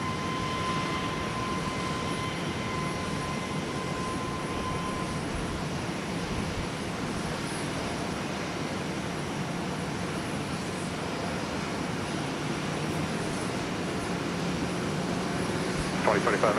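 A plane lands on runway 12 right at Minneapolis–St. Paul Airport, heard as a steady, distant broadband roar of jet engines that holds unchanged for a long stretch, faint and continuous.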